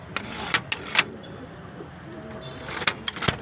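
Pigeons coo softly in a loft or rooftop setting, with a few sharp knocks and flutters breaking in at the start and again near the end, all fairly quiet.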